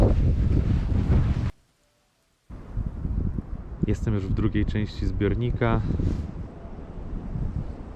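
Wind gusts across an open reservoir on a stormy winter day, a steady broadband rush against the microphone that drops out briefly, then returns under someone talking and some clicking handling noise.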